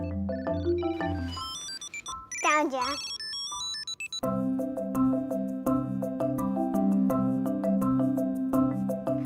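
A Tile Bluetooth tracker rings after its button is pressed in a phone app, playing a loud, steady, repeating electronic melody that runs almost the whole time, with a voice speaking briefly near the start.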